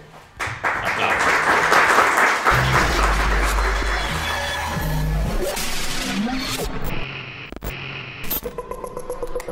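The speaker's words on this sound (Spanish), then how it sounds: "vamos a darle un fuerte aplauso" Audience applause greets a speaker named Roberto at a Mexico City talk, a loud sustained wash of clapping with low rumbling bursts that thins and tapers into scattered claps toward the end.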